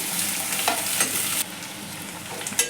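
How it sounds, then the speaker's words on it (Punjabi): Sliced onions frying in hot oil in a kadai for a spicy bitter gourd curry: a constant loud sizzle broken by a few sharp clicks and scrapes of stirring, close by. "ਇਹਦੇ ਵਿੱਚ ਹੁਣ ਆਪਾਂ ਪਿਆਜ਼ ਪਾ ਲਾਂਗੇ ਪਿਆਜ਼ਾਂ ਨੂੰ ਆਪਾਂ ਫਰਾਈ ਕਰਾਂਗੇ ਜੀ"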